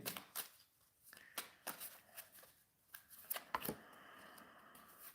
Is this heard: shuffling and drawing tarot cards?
yes